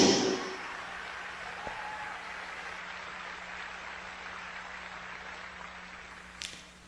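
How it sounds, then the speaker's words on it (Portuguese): Applause from a church youth conference congregation, a broad dense wash of clapping that fades from loud to a quieter steady patter over several seconds, with no voices over it. "Eu não sei porque vocês estão aplaudindo"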